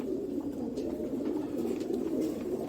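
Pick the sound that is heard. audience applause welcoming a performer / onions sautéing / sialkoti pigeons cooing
sialkoti pigeons cooing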